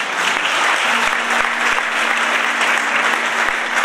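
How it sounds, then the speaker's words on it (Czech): An audience at a concert claps steadily throughout, a dense continuous applause with a faint hum underneath. "zdravíme vás, zatleskáme mu."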